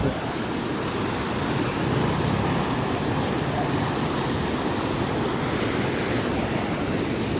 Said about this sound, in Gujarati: પાણી જાય છે આમ બહુ ભયાનક તરીકે અને જોઈ શકો તમે પાણી બહુ જાય છે ખતરનાક તરીકે